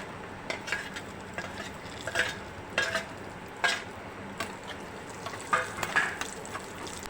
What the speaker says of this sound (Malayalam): കശുവണ്ടി മൂത്തു വരാറായി. അതിലേക്ക് നമുക്ക് ഉണക്ക മുന്തിരി ഇടാം.